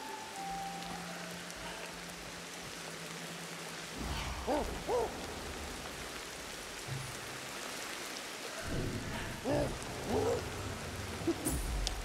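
Heavy rain falls in the survival game Ancestors, a dense steady hiss of drops on foliage and ground, with brief animal calls and thumps surfacing over it.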